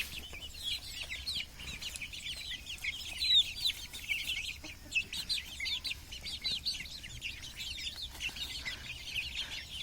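Chickens cluck and chirp softly in irregular bursts over a quiet background, with some birds calling at a distance.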